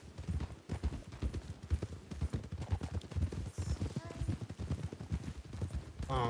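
Rapid hoofbeats of several horses galloping in RedM, a Red Dead Redemption 2 roleplay game, steady and loud, with voices talking over them.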